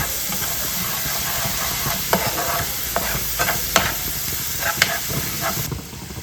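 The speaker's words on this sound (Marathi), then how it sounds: "ती पहिले तेलामध्ये पण थोडीशी शिजवायची आहे." A paste of coriander, chili and garlic fries in hot oil, giving a steady close sizzle and hiss, with occasional scraping stirs of a spoon in the pan and no voices.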